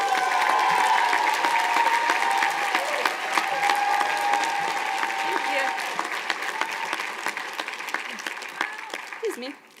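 Steady applause from a large outdoor college commencement audience welcomes a senior class speaker to the stage, with scattered cheers and whoops, gradually thinning toward the end.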